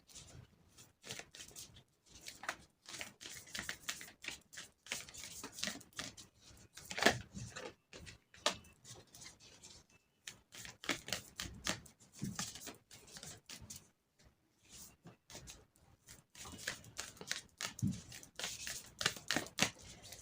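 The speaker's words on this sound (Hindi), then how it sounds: "so let's shuffle your cards first" Tarot cards are shuffled by hand in quick, crisp riffling bursts separated by short pauses, close up and quiet throughout.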